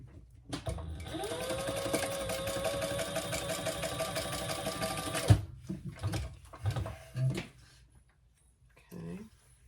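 A sewing machine stitches fabric from corner to corner while making a convertible pattern, humming steadily for about four seconds and then stopping, after which a person talks in short bursts.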